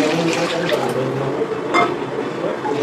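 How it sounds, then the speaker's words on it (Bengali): Water is poured into a pan of fried mustard, poppy seed and sesame paste cooked in oil, giving a steady close liquid splash and trickle lasting a few seconds, with a faint clink partway through. "আমি এবার একটু জল দিয়ে দিলাম"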